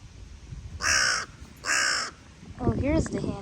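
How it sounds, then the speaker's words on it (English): A crow gives two loud, harsh caws close by, each about half a second long with a short gap between them, and then a person starts talking. "Oh, here's the hand-eating crow."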